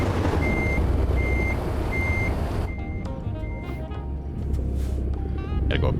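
A truck in American Truck Simulator reverses with a steady series of loud, evenly spaced backup beeps over constant engine rumble, the beeping pausing then resuming as the vehicle manoeuvres through a turn.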